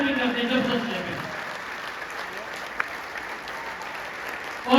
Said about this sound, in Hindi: मैं चाहूंगा इन सबके लिए जोरदार ताली करते हैं, जबरदस्त है।